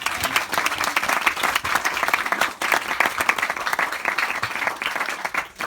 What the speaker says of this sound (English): can we get a round of applause again for these young ladies, please?